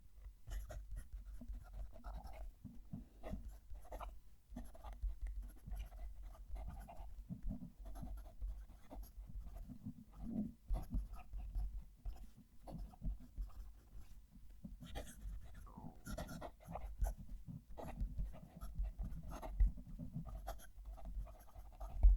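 A fountain pen nib writing a sentence on paper, heard close up as a faint, steady scratchy whisper of strokes and lifts over a low background hum.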